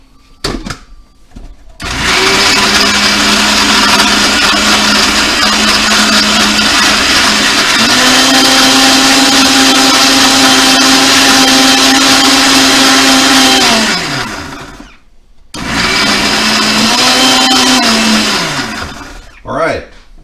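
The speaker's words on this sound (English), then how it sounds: "we're going to go ahead and hit the blender right now" A Black & Decker blender whirs loudly as it purees a watery mash with fish, running steadily for about thirteen seconds, then stopping briefly before a second short burst.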